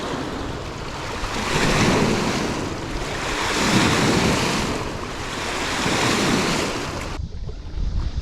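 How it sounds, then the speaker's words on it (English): Wake from a tugboat on the Mississippi River rolls in as waves breaking against the shore, a loud, close, surging wash that rises and falls in swells, with wind noise over the microphone. "Relaxing at first, watching this wake from the tug come in,"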